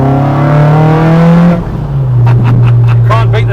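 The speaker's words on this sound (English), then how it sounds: "noise of Weber's, the induction noises, mate. Sounds amazing." A Ford Focus ST engine on Weber carburettors in a Mk2 Escort van drones loudly, its induction roar rising and falling as the throttle blips, with someone talking over it near the end.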